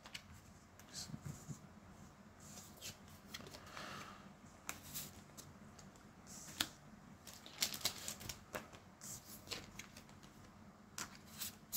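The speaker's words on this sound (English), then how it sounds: "I'm gonna sleeve both of the cards" Pokémon trading cards slid into plastic protective sleeves, giving soft rustling swishes and quick crisp clicks of card stock against plastic, close but faint, with quiet talking underneath.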